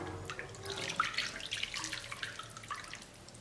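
Water pours into a pot of blended chili sauce in a home kitchen, a steady splashing stream that runs for a few seconds and then tapers off, close and fairly quiet, with no talk.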